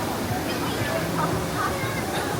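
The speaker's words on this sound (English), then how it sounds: "there's basically a giant fountain in the center here with a waterfall that" A giant indoor fountain with a falling waterfall at the center of a large mall splashes as a dense, steady wash, with the murmur of a crowd mixed in.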